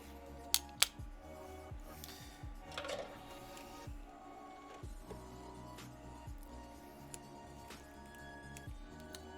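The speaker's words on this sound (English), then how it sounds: "Just like a nice electric screwdriver." A cheap electric screwdriver unscrews a screw with a repeated low motor whir in short bursts, quiet and close, broken by a couple of sharp clicks early on.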